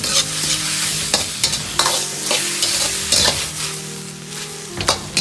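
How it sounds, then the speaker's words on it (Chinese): Wood ear fungus and green onions are stir-fried hard over high heat, making a loud, busy sizzle broken by repeated sharp spatula scrapes and clanks against the wok, with no one speaking. "大火快速的翻炒几下，翻炒均匀，炒出锅气，炒出香味"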